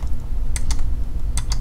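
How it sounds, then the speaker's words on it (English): Quick, crisp key presses on a computer keyboard while using PE Design 10 embroidery software, four close clicks in two pairs over a low background hum. "Keyboard the letter X."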